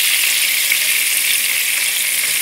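Fish fries in hot oil in a pan, producing a loud, close, continuous hissing sizzle with no talk.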